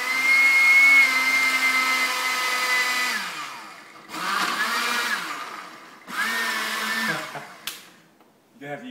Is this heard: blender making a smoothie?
yes